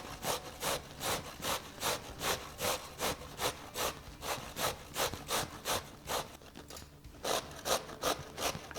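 Carrots are grated by hand on a box grater, held at a 45-degree angle, with fast regular rasping strokes roughly twice a second. The strokes are close and crisp, pause briefly near the end, then resume, with no talking.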